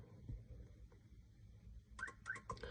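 A car alarm system gives two short, clear beep signals close by, about a third of a second apart, following quieter low rumbling background.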